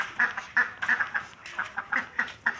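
Ducks on a farm in Nepal quack in a rapid run of about a dozen nasal calls, close and moderately loud, with no talking.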